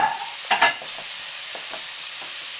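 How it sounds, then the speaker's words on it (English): Onion and garlic soften in a pan for a white bean vegetarian chili, giving a steady hissing sizzle with a few knocks and scrapes of a stirring utensil near the start, close and even. "So that's going to be the simmering away or sauteing away to get nice and soft and releasing its juices."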